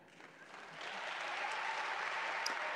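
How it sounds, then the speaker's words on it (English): Audience applause at an affirmation workshop, a dense wash of clapping that swells and grows louder after the first second, then holds steady and sustained with no voices over it. "Come on, audience. Come on, crowd. Come on, claps."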